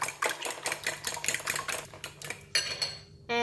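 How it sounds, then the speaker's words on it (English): Duck eggs are beaten for an omelet with rapid, rhythmic clinking of a utensil against a bowl. About a dozen quick close strokes end in a brief scraping flurry. "Just beat the egg"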